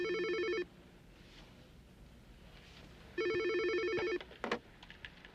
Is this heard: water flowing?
no